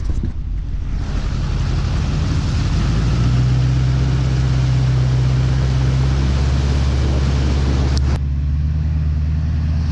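A Duramax truck drives through standing floodwater on a town road, giving a steady low engine rumble under a continuous wash of splashing water and wind noise, with a brief sharp knock near the end.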